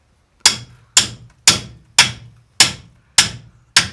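Seven loud, evenly spaced hammer blows strike a big bar to free a seized brake disc from the hub of a 2015 Ford Transit MK8, each sharp metallic clang ringing briefly before the next.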